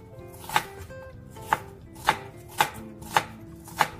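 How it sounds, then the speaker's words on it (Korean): A knife slices through an onion on a cutting board in a home kitchen, six crisp, evenly spaced chops close by, with quiet pauses between and no voice. "미리 준비한 양파를 썰어서"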